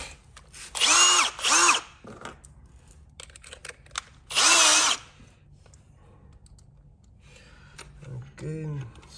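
Power drill driving screws into a storm door during installation, two bursts of whirring close by near the start and another a few seconds later, with someone speaking briefly between them.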